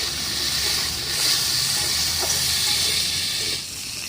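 Helencha bitter greens fry with salt in a hot pan, giving a loud, steady broad hiss and sizzle that swells slightly midway and eases near the end, with no talking.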